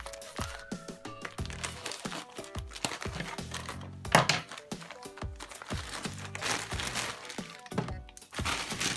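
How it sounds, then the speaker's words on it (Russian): Plastic packaging of an AliExpress parcel holding socks crinkles and crackles as it is torn open, close and fairly soft, with repeated rustling bursts and a sharp crack partway through. "Погнали распаковывать."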